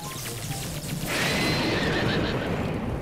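A horse in the Breath of the Wild video game gives a loud, drawn-out neigh over clip-clopping hooves and a dense game soundscape, with no talking.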